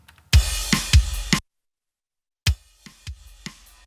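A punchy, compressed drum loop with deep kick hits and sharp rimshots plays, cuts to a second of silence, then resumes.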